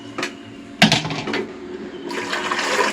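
Two glasses of water splash and gush into a cooking pot in two bursts, close and fairly loud, with a clatter at the start.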